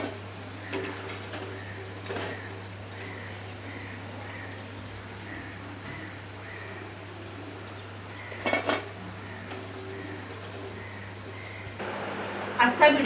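Dishes clink faintly as freshly fried dal pakoras are served onto a plate, with a few soft scattered taps and a slightly louder clatter near the end over a steady low background hum.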